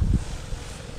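Gusty wind blows outdoors in a calamansi orchard in the hot season, a short loud buffet of rumbling wind against the microphone that quickly settles into a low, steady rush.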